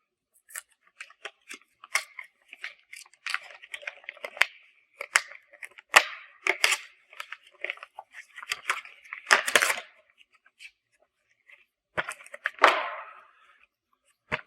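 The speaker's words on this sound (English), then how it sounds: "We'll get it out of the package here." Crinkly rustling, snipping and tearing of plastic packaging as a Polaris RZR XPT clutch cover is unpacked, in irregular close bursts with short pauses.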